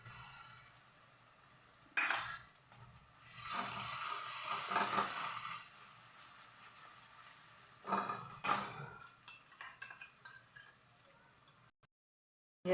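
Garlic paste with onions sautéing in a pan for a potato pocket snack, a soft sizzle with metal stirring and clinks of a spoon against the pan, moderately close and without talk.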